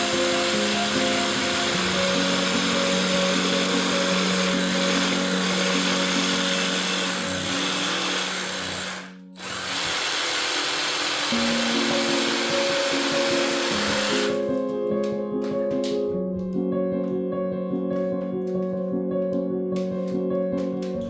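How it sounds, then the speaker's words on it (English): A jigsaw cuts laminate flooring tiles in a garage, a loud continuous whine with shifting pitch that runs almost the whole time, dipping briefly midway before resuming. "Use your jigsaw to cut as required."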